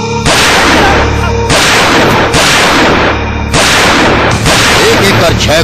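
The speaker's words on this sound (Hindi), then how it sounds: "एक एक कर 6 गोलियां चली" Six loud, booming gunshots ring out close by in separated bursts, each with a long echoing tail, leaving no clean gaps between them.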